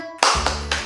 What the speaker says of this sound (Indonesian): Oke, tepuk anak Tuhan.